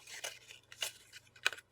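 Scissors snip paper words for a scrapbook layout in a few short, crisp cuts, close up and quiet with brief pauses between them.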